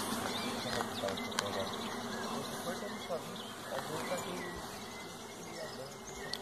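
Honeybees at an open beehive in an apiary with a young, productive queen: a dense, steady, close buzzing swarm drone throughout, with people talking faintly beneath it.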